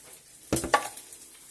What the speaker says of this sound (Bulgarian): в която чиника яйцата са почти готови